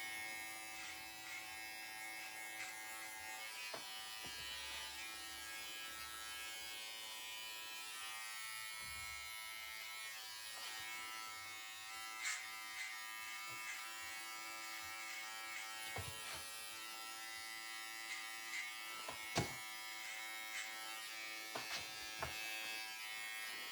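An Andis hair trimmer hums steadily through a layered bob haircut, a close, even electric buzz that runs almost unbroken with a few small clicks and taps.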